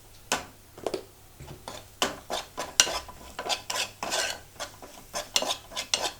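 A metal spoon scrapes and clanks against a pan while onions and spice powders such as turmeric, coriander and garam masala are stirred for a soya roast, in irregular bursts of scraping with faint sizzling underneath and no talking.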